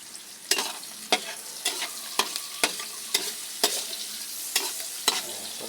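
Sauce with tomato paste sizzles in a pan while a utensil stirs it in repeated scraping strokes about every half second, crisp and close over a constant frying hiss.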